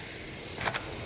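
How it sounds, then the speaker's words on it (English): A brief, steady hiss of chicken sizzling in a hot pan, with a couple of soft pops near the end. "we love a sizzle"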